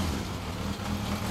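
A Honda Monkey's engine burbles through a Nojima exhaust muffler, a brief, faint, rough low rumble lasting just over a second with no talk.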